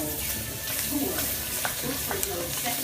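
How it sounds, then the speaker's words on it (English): Garlic and chopped vegetables for gumbo stirred in a hot pot, a soft sizzle with intermittent scraping strokes, a voice faintly present beneath. "So I'm gonna stir this for about 3 or 4 minutes."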